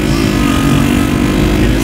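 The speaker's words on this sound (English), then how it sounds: "It's a strap on top of the car that got a piece of plywood." A strap holding plywood on a car roof vibrates in strong wind in The Gambia, making a steady, loud, buzzing drone that holds unbroken for the whole stretch with no talking.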